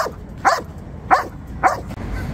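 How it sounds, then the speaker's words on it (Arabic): An eight-month-old male guard dog at a Baghdad street market barks three times in an evenly spaced run of sharp, close barks over a quiet background. "حراسة كلب حراسة هذا."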